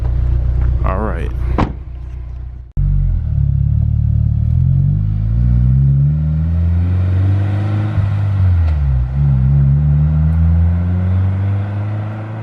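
A Honda S2000 fitted with a T1R Racing exhaust revs repeatedly. Loud rising and falling engine sweeps follow a brief clatter and a cut, staying strong and close for the rest of the clip.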